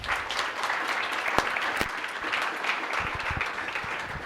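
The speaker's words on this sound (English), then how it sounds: "A warm round of an applause, ladies and gentlemen." Audience applause at a book discussion on peer-to-peer youth mentorship, a dense, steady round of clapping from a crowd with a few sharper individual claps standing out, sustained throughout.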